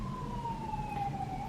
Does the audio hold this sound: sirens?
yes